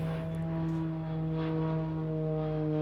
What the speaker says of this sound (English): plane going overhead